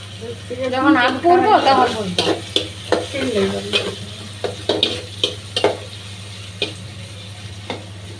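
Onions stir-fried in a pan, clattering stirring strokes and short scrapes over a steady sizzle, with speech over the cooking at the start and the stirring continuing alone afterward.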